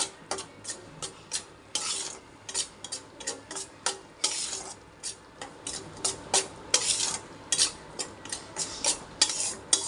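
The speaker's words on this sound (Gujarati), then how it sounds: "ગોળ આપણે નાખી અને તરત જ આપણે આને ઓગળી જાય એટલે ઉતારી લઈશું બે મિનિટ આપણે હલાવશું" Melting jaggery is stirred in a pan for a temple prasad, a utensil scraping the pan in quick rhythmic strokes, roughly two or three per second, close and steady with no speech.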